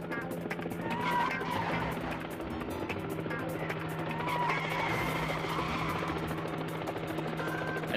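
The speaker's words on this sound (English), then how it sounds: "Suicidally begin to weave in and out of fast-moving traffic, throwing in a few wheel spins for good measure" A pickup truck weaves through fast traffic doing wheel spins, with engine roar and squealing, skidding tyres rising and falling over a steady hum, fairly close and continuous.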